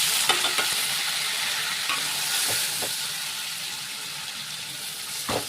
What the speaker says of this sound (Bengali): পেঁয়াজটা আলুটা লাল লাল করে ভাজবো।